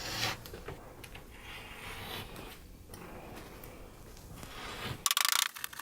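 A razor blade scores drywall corners in a room with a soft, close scraping and rasping that runs on continuously, then ends in a brief sharper burst of scratchy noise.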